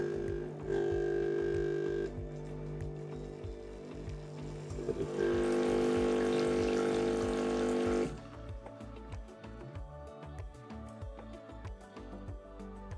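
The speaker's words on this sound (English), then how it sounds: "The group head will dispense approximately 500 ml of water and the steam wand 350 ml." Dualit Espressivo Pro coffee machine descaling, its pump humming steadily while water dispenses in two loud bursts, with a softer gurgle between them and quiet dripping afterward.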